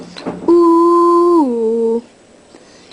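A voice imitates a ship's foghorn with one long, loud, low droning hoot that drops slightly in pitch near its end, alone and close.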